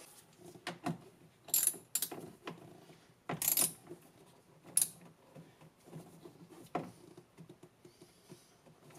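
A ratchet tightens nuts on the solenoid studs of a 2004 Club Car Precedent gas golf cart, with close, sharp metallic clicks and clacks in short irregular bursts and quieter rattles between them.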